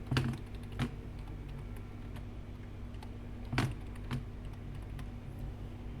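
Password being typed on a computer keyboard during Windows Server domain controller user setup: a few sparse, distinct key clicks over a steady low hum, no talk.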